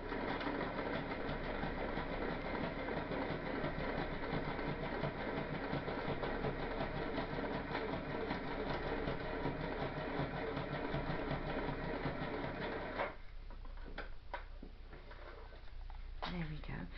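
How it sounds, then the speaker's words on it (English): A basic sewing machine running without thread, its needle perforating paper with a fast, steady mechanical whirring for about thirteen seconds, then stopping and leaving faint handling noises. "I've got a really basic sewing machine"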